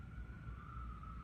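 A New York emergency vehicle siren sounds as a sustained distant wail over a low city rumble, with no voices.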